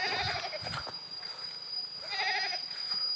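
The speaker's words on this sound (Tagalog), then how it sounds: "May mga kambing na dito." Several goats bleat nearby, with overlapping calls at the start and again near the end over faint outdoor background noise.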